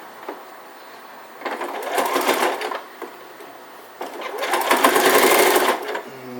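A sewing machine fitted with a walking foot stitches through three layers of an elf hat, running in two loud steady bursts with a short pause between them, close up.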